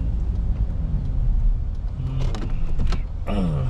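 A 2013 Hyundai Elantra with an engine-light and idle fault is being parked. A low idle rumbles under small mechanical clicks and an electric whir near the end, heard up close inside the car.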